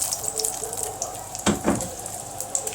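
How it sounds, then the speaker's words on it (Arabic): Blanched okra is dropped into a bowl of cold water in a kitchen: close watery sloshing with a couple of distinct splashes partway through. "وبعدين احطها في ميه ساقعه"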